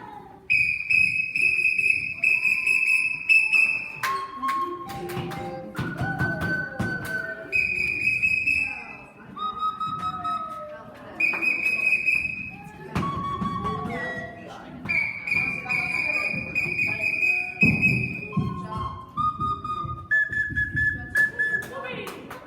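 Whistles sound through a reading of a Christmas poem. Several sharp, tuneful blasts come one after another, loud and near, each held for a moment with short gaps between.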